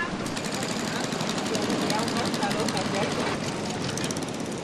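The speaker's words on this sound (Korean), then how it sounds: "모터 소리와 엄마 아빠의 흥정하는 소리에 아이들도 어느새 일어났습니다." A motorboat engine chugs steadily on the Mekong River, its throbbing drone running close and unbroken throughout, with muffled voices in the background.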